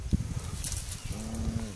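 A weak cow on a farm shortly after calving, giving a low, faint moo-like call that swells near the end over steady barnyard background noise.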